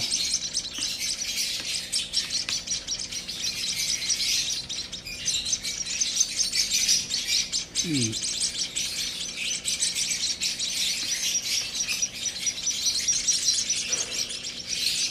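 Hungry baby birds, fallen from their nest and being hand-fed, chirp in dense, rapid high-pitched calls almost nonstop, close by, with a brief lower call in the middle.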